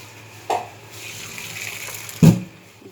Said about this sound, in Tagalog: Luto na yung ating sago. I-ano na natin. I-drain na natin.